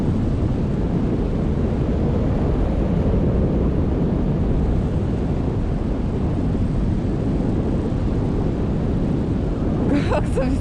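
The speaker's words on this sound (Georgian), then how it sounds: "როგორი ქარია?" Strong wind roars steadily across the microphone outdoors, a loud continuous rumbling buffet that fills the whole stretch, with voices talking faintly beneath it.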